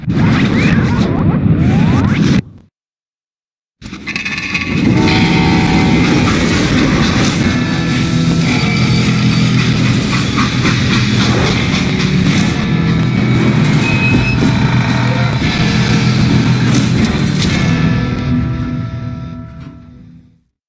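A freight train rolls along the rails in the Call of Juarez video game, making a loud, continuous rushing, rattling roar that runs nearly the whole time after a brief gap of silence near the start, then fades toward the end.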